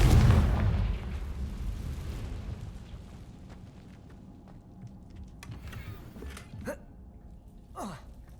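A Confringo fire spell explodes in the Hogwarts Legacy video game: a loud, deep boom at the start rumbles and fades over several seconds, followed later by a few quieter, sharp magical whooshes and pops.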